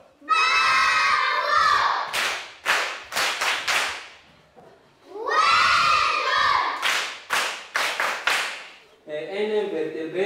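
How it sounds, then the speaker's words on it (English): Children cheer and shout loudly, with bursts of sharp rhythmic clapping, rising twice in close succession before a few voices carry on. "On applaudit fort."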